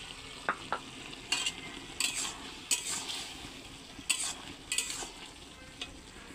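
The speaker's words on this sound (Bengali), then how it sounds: "এবারে যে পোস্ত বাটা দিয়ে দিচ্ছি, দিয়ে নেড়ে চেড়ে তারপরে নামিয়ে নেব।" Ridge gourd curry being stirred with poppy seed paste in a pan, a soft sizzle under irregular scraping strokes of a spoon against metal, several distinct clinks spaced through the stretch, fairly close and moderate in level, no voices.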